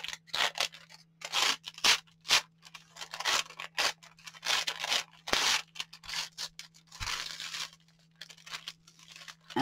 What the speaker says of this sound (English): That's the Wonder Under. So I'm just going to peel.